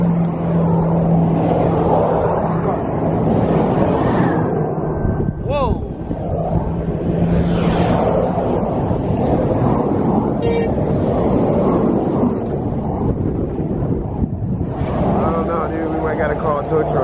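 Cars rushing past close by on a roadway beside a vehicle stopped with two blown tires, a constant loud traffic roar with a horn toot, while someone talks over it.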